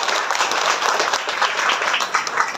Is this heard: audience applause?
yes